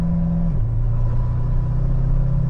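A car cruises along a highway, its engine giving a steady low drone with a slight downward pitch shift early on, road rumble constant and close.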